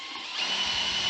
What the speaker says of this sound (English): I'm drilling the holes pretty much, I would say, 1/3 from the bottom